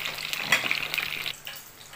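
Peppers fry in hot oil with a soft steady sizzle and a few sharp crackles near the start, close and moderately quiet, fading slightly toward the end.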